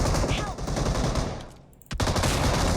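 Video game gunfire in a dense, continuous automatic burst that drops away briefly, then returns with a sharp shot and more sustained fire.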